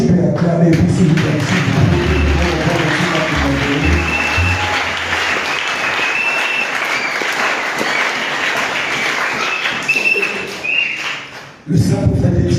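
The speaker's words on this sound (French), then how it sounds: "Est-ce que tu peux acclamer" A church congregation at an Easter service bursts into loud, sustained applause and cheering, a dense wash of clapping that holds steady for several seconds before cutting off abruptly near the end, then resuming briefly.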